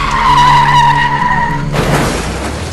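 A car skids with a loud, sustained tire screech, then slams into a pedestrian with a sharp crash and shattering burst, a dramatic horror-story sound effect.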